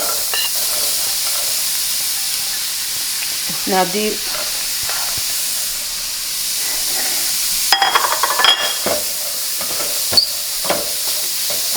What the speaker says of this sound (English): My pan is nice and hot. So I'm gonna put all these veggies in here.